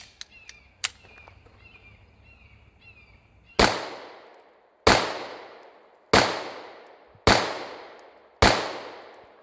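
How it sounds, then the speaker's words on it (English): Five loud, sharp pistol shots from a Bul Armory handgun firing 124 grain Federal HST hollow points, evenly spaced about a second apart with ringing decays, after a few faint clicks and handling noises. "We're just simply going to fire 5 rounds of each different load and see how they function"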